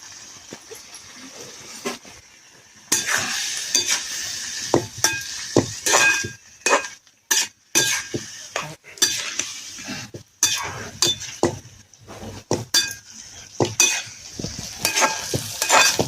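Cluster bean curry cooks in a pan on a village wood-fired chulha. A spoon scrapes and clinks against the pan in irregular bursts of stirring, with brief pauses over a soft sizzle.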